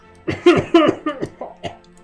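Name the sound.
cough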